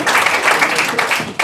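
A short burst of audience applause and clapping, steady and fairly loud, with a brief pause near the end before it picks up again.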